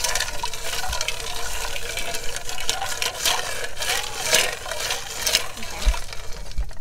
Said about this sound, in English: The second options, rice water. Why don't you just pour it in?